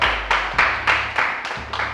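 A run of about seven sharp claps in an even, quick rhythm, close and fairly loud.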